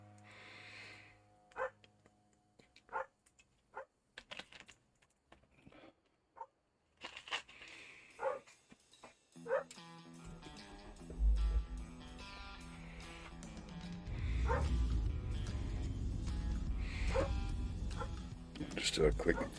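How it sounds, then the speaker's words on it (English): Several dogs bark intermittently at a distance, one of them going deaf, with short sharp yaps scattered through the quiet opening and then half-buried under a steady low rumble of engine and music near a Peterbilt truck. "You may hear my dogs barking in the background."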